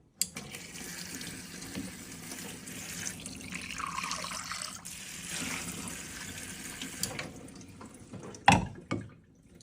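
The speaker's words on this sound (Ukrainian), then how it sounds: "Має краник для фільтрованої води." Water runs from a kitchen tap that dispenses filtered water, a steady close stream splashing into the sink, then shut off near the end with a short clatter and a fading drip.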